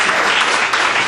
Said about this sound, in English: So give Jenny an extra clap, please.